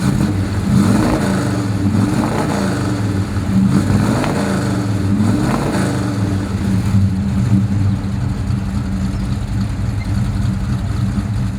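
1968 Dodge Charger R/T V8 with an upgraded camshaft idling after startup, a loud, close, lumpy rumble with steady low throb and light revving swells, no voices.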